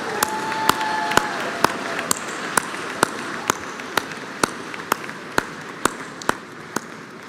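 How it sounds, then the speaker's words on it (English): Hand claps ring out one at a time at a steady beat, about two per second, for Middle Georgia State alumni at a spring graduation ceremony. They sound crisp and fairly close over low crowd noise. "Give them a round of applause."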